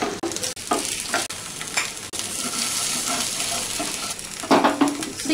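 Egg frying in a pan with pepper and salt, steady close sizzle broken by a few sharp spatula scrapes and knocks as it is flipped, with a louder clatter near the end.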